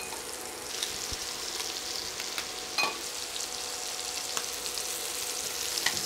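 Scallops sear in a hot pan for seafood jambalaya, a steady close sizzle and crackle holding an even level, with a few sharper pops and no talk.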